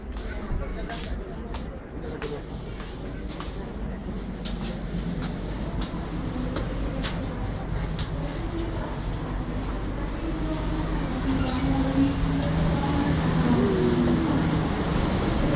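A train at Medan railway station in Indonesia rumbles steadily throughout, a continuous low rolling hum that grows slightly louder toward the end, with scattered voices and station bustle faintly underneath.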